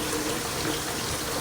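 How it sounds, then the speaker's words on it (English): Water runs steadily from a kitchen tap during washing up while cooking, a continuous close hiss of flowing water with no talking. "I kind of like to wash as I go."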